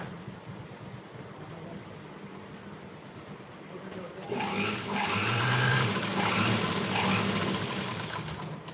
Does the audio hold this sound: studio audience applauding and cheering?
no